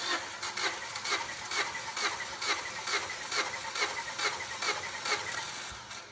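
A 1.6-litre Mitsubishi 4G18 engine from a 2007 Lancer cranking on the starter during a compression test on the first cylinder, with an even rhythmic chugging of about two beats per second, moderately faint and with no talk.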